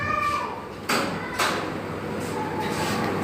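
A door to the lane of a home swings open with two sharp knocks and a scrape, then a steady, airy rush of background noise follows.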